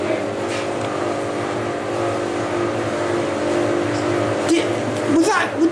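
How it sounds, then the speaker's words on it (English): A car passes outside at night, its engine rumble swelling toward the end with a couple of sharp bangs, heard beneath a steady hum and background noise. "Was that car making them two bangs then?"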